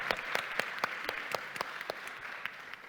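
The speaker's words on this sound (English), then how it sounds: "Round of applause for Abdul." An audience applauds for a man named Abdul at a community leadership panel, a brief burst of scattered clapping that stays moderately loud, with a few sharp individual claps standing out before it tapers slightly.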